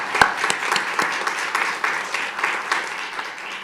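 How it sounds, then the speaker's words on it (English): Event audience applauding three finalists of a startup competition, a moderate crowd clapping with distinct individual claps audible across a steady wash. "So let's give our 3 finalists a round of applause and congratulate them on making it this far."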